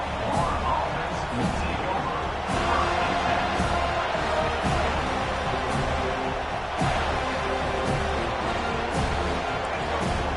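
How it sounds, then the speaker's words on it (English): Stadium crowd at an FSU college football game roars in a steady, dense wash of cheering and babble throughout, with occasional louder swells and whoops, no single voice standing out. "This crowd trying to show them what it's going to be like all day in this house."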